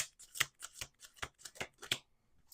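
A deck of playing cards is shuffled in a quick series of crisp riffling bursts, close and fairly quiet, with no talk over it.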